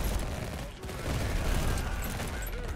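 Video game gunfire from Tempest Rising, a dense, continuous fusillade of rapid shots against barrels at a refinery, loud and sustained with chaotic battle noise throughout.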